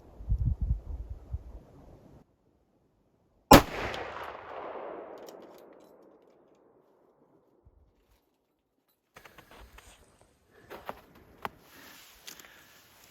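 A single loud shot from a .458 rifle firing a mild load, a sharp crack followed by a long decaying rumble, then near silence broken by faint small handling sounds.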